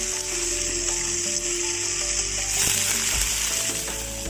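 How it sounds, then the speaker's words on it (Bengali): Hot water poured into a spice paste of chilli powder, turmeric, salt and ginger paste frying in oil for raw banana kofta curry, giving a loud steady sizzle and hiss with a few clinks, close by. "ফুটিয়ে রাখা গরম জলটা অ্যাড করে দিলাম।"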